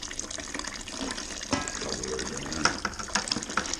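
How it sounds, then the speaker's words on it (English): Hot water pours steadily into a beer kit fermenter to dissolve the ingredients, a continuous splashing, gurgling fill close by with small sloshing bursts throughout. "We're gonna put some more hot water in for the dissolving"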